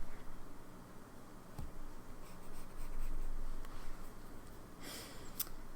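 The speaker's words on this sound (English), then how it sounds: "This broad nib is not as juicy or as smooth as my rose gold one, but it still writes very nicely" A broad-nib fountain pen writes on paper, with a soft, steady scratching and faint ticks of the nib at close range, quiet and alone against low background hiss.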